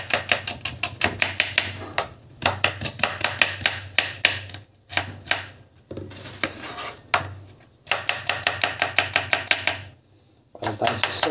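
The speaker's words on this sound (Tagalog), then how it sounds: "chop na natin yung onion" A knife chops onion on a cutting board in quick rhythmic bursts of crisp close knocks, separated by brief pauses, with no talking.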